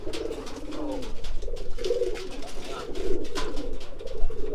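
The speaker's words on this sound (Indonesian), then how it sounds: "Jadi kita butuh merpati yang ngeblekur, yang bunyi kita panas-panasin." A racing pigeon coos repeatedly in soft, throaty bursts, close by, with faint rustling and background noise between calls.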